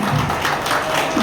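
Audience at a celebration stage event for the Andaman Nicobar Tour Operators Association clapping loudly in a dense, continuous burst that stays close and sustained through the whole moment.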